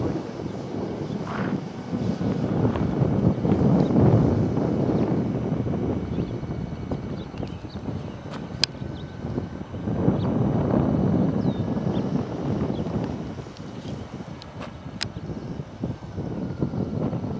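A large 1400mm Hobbyking Rare Bear RC model airplane flies overhead, its engine drone swelling and fading as it passes, mixed with gusty wind noise across the microphone.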